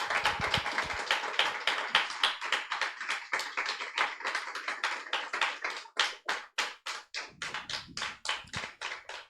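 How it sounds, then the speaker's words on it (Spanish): A church congregation claps in unison during a Sunday family worship service, a loud rhythmic stream of hand claps that tightens into sharp, evenly spaced beats toward the end. "Dale un fuerte aplauso al Señor."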